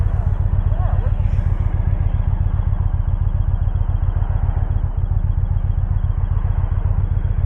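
An Indian Chieftain Power Plus 112 motorcycle engine runs with a rapid, steady low thumping pulse close by, while people talk briefly over it.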